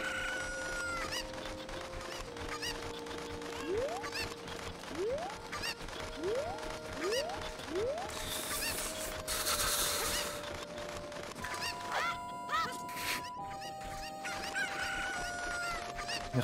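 Chickens crowing and clucking in Zelda: Ocarina of Time, a run of game-style crows and clucks repeating over several seconds, moderately loud, with no talk over them.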